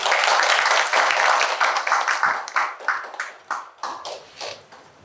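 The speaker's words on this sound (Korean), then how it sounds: "박수 부탁드립니다." Applause from a lecture audience at a May 18 Democratic Uprising memorial talk, dense clapping at the start that thins into scattered individual claps and fades out.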